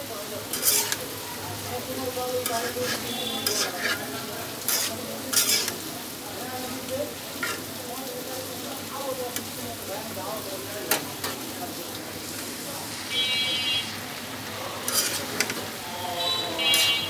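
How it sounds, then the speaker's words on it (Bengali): Mixed vegetables seasoned with turmeric sizzle steadily in a frying pan while being stirred, with repeated scraping and clinking strokes of a utensil against the pan throughout, no voices. "আমি সবজিগুলো ভালো করে নাড়াচাড়া দিয়ে দিতেছি"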